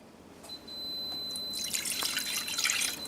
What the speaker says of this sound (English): If you heard that beep, that's my bread done.